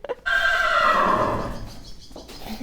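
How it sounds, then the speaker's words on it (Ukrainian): A mare at a Kyiv racecourse stable gives one loud, close neigh that rises and trails off over about a second and a half, followed by quieter stable shuffling and a faint hoof sound at the end. "Цю кобилу звати княгиня Ольга, і це княгиня, у котрої навіть є паспорт"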